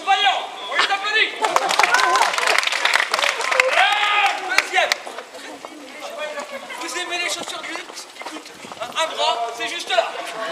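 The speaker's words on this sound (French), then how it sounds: "On les applaudit." Outdoors on a street in Lyon's Croix-Rousse district, a small tour group claps in a short burst of scattered hands, while voices and excited chatter carry on over and after the applause.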